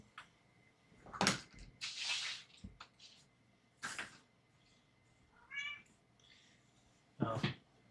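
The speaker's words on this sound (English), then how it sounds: "If you listen closely, you might hear a cat meow." A house cat meows a couple of times, fairly faint and short, amid scattered household knocks and clatter in a quiet room.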